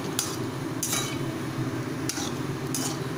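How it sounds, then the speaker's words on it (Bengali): Egg fritters frying in a pan are stirred constantly. A continuous low sizzle runs throughout while a utensil scrapes and clinks against the pan in a few brief bursts. "বড়াগুলোকে সর্বক্ষণ নাড়তে নাড়তে ভালোভাবে ফ্রাই করে নিতে হবে"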